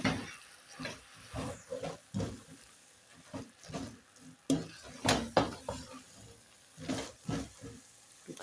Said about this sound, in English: Let me now turn so that I can mix my sukuma wiki and the beans.